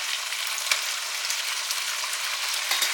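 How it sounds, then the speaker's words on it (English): Beef and brown sugar are stirred in a hot frying pan, a steady close sizzle and hiss running throughout with a couple of faint scraping knocks from the spoon. "going to start stirring this up in here. Getting it all mixed up with that beef."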